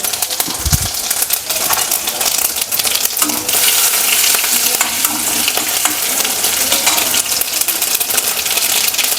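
Garlic splutters loudly in hot oil as tempering for a raw banana stir-fry, a dense, continuous crackling sizzle close by with occasional clinks of a utensil.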